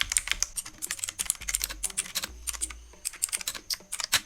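Rapid typing on a computer keyboard while writing HTML code, close and crisp with uneven bursts of keystroke clicks and a few brief pauses.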